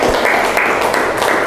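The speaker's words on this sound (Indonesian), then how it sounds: "Tepuk tangan tuh Roro." A classroom of students claps for a classmate, a short dense burst of applause, close and loud, steady from start to finish.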